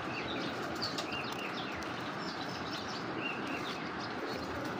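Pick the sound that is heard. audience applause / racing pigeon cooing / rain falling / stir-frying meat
racing pigeon cooing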